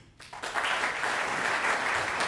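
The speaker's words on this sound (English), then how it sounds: "Clap if you were alive in the 1980s" An audience at a barbershop quartet guest artist concert breaks into steady, dense clapping that starts up abruptly and holds at full strength to the end.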